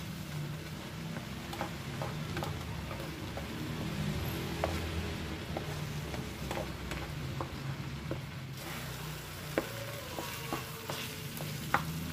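Lemongrass, galangal and lime leaves frying in hot oil for beef rawon, a steady close sizzle with scattered ticks and scraping stirs throughout, no voices.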